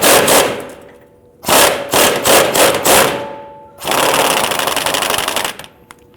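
A socket wrench with a swivel works loose a 21mm rear lower control arm bolt on a 2013–2019 Ford Explorer Interceptor, giving loud close bursts of rapid clicking, pulsing ratchet strokes, then a sustained rattling run.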